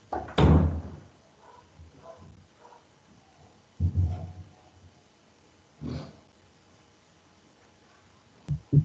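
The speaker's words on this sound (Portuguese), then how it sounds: "Vou fechar a porta aqui" A door is pushed shut indoors in a home during an online class, giving a single loud thud near the start, followed by quieter room noise and a couple of softer knocks and bumps later on.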